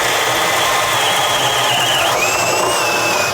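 A Bosch 1330 drill bores with a 1.75 inch Irwin speed bore bit, giving a loud, steady whine that holds throughout and shifts up in pitch partway through, with no voices.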